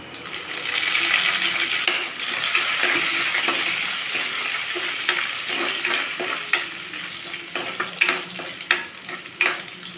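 Curry leaves and dried red chilies frying in hot oil, a dense continuous sizzle with stirring clinks and scrapes that grow more frequent toward the end.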